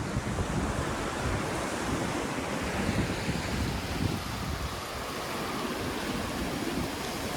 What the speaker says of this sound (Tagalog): Nakakatakot yung alon guys.